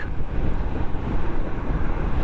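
Steady, loud wind buffeting with low rumble on an unfaired Royal Enfield Interceptor 650 naked motorcycle at motorway speed, continuous roar with no pauses and no talk.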